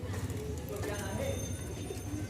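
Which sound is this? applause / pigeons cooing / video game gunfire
pigeons cooing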